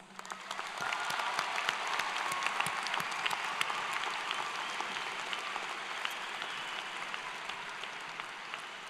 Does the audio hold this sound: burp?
no